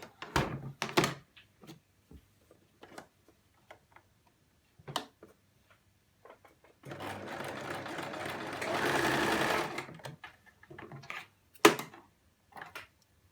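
Sewing machine stitching the fabric waistband of a wrap skirt, one steady whirring run of about three seconds set among scattered clicks, taps and thumps of handling.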